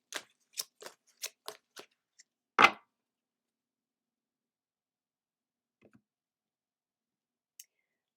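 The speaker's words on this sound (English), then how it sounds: "Then we'll pull a card from the Fairy Oracle." Cards from a Fairy Oracle deck are shuffled in a brisk burst of six crisp clicks, followed by a louder slap as a card is pulled, then near-silence with a couple of faint taps.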